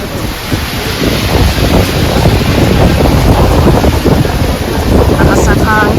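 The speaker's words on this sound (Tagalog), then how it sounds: "Lakas ng hangin. Grabe." Loud, gusting wind buffeting the microphone in a continuous roar, with water and waves churning underneath and a faint voice near the end.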